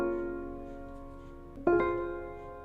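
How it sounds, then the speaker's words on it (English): A keyboard plays a simple two-chord progression for a beat: one sustained chord rings out and decays, then a second chord strikes and holds, close and clear with no talk. "So if you want to do like a 1-3 chord progression, which we are going to do for this beat, it's going to sound like this."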